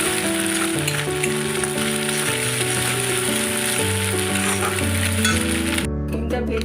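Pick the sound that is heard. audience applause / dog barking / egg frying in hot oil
egg frying in hot oil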